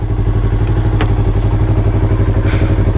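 A 2020 Yamaha YZF-R3 motorcycle with a non-stock exhaust idles loud and close, its low pulsing engine note steady and even throughout, with a single sharp click partway through.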